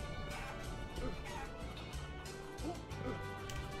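Chicken clucking in the video game Guacamelee, a few short faint clucks rising over a steady wash of game music and background sound.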